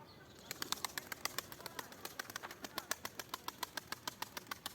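Birds outside give off a rapid series of sharp, regular flapping beats, fairly quiet and close, over a faint background hum.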